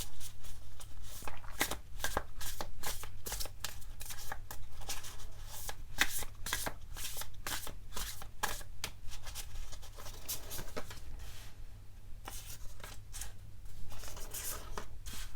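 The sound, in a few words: shuffling a deck of tarot cards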